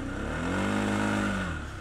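An Arctic Cat 700 ATV engine revved at full throttle, a close, loud rising-then-falling mechanical roar lasting under two seconds.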